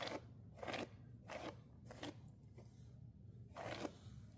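Scissors trimming a small child's hair give about six quiet, crisp snipping crunches in an uneven rhythm, close up with no talking.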